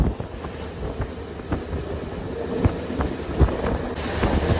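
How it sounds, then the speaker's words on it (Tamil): A passenger train running past paddy fields in Jaffna, a steady rumble with rhythmic wheel clacks heard from on board, with wind noise and no talk. "நாவக்குழி ரயில்வே ஸ்டேஷன் தாண்டி இப்படி வயல் வழிக்கலால் போய் கொண்டிருக்கு பாருங்க ட்ரெயின்"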